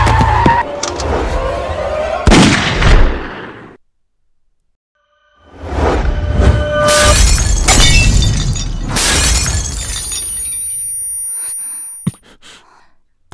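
Sniper gunfire hits a car in a dramatic scene, smashing its glass. A loud sharp crash comes first, then sudden silence, then a dense, close run of shattering and breaking impacts that fades out.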